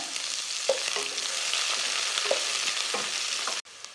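Oil sizzles steadily as chopped onions sauté with curry leaves for chicken kuzhambu, with occasional scraping stirs of a spoon against the pan, then a brief cut to quiet near the end.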